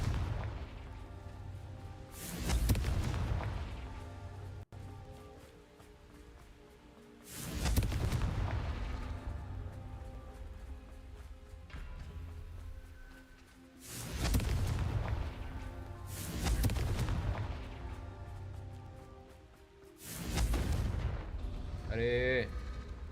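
Fiery spell blasts in the Hogwarts Legacy video game, five loud booming explosions each swelling and fading over a steady game ambience, spaced a few seconds apart.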